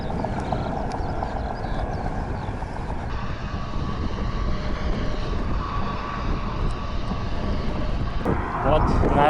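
Vehicle tyres roll over the joints of a concrete slab road on the way toward Tulun, making a loud, steady droning rumble heard from inside the vehicle that resembles a distant helicopter.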